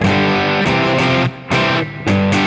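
A heavily distorted electric guitar plays a loud, sustained chord riff from the chorus of a song, with brief drops in volume between phrases and no voices.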